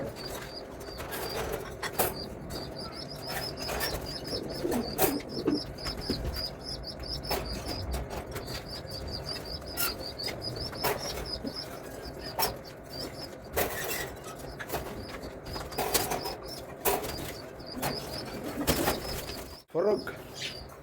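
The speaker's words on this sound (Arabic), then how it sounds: "بص الحمام كله بيحب" Pigeons in a loft fill the air with continuous soft cooing and repeated wing flaps, a busy close-up flock with occasional sharper rustles and chirps throughout.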